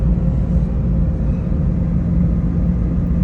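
A manual car cruising along a road in the Philippines in fourth gear at around 60 km/h, giving a steady, continuous low engine and road rumble from inside the cabin without a break.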